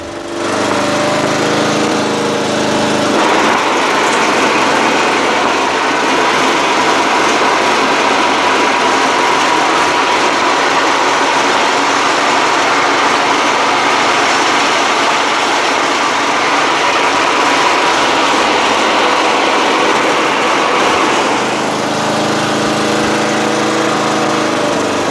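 A Murray 40-inch LT widebody lawn tractor with a 12.5HP Briggs flathead engine, PTO engaged, drones loudly and steadily. The pitch rises after about three seconds and falls back near the end.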